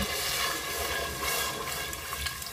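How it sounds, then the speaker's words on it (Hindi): Half a cup of water pours steadily into a pressure cooker holding potatoes and arbi, a continuous splashing rush that stays fairly loud and even for a couple of seconds. "आधा कप पानी का डाला हमने।"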